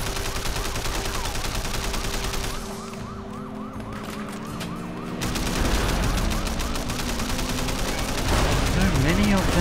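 Gunfire from the video game Sleeping Dogs crackles in rapid bursts over blaring police sirens and a dense, loud mix of action sounds, with a player talking at times.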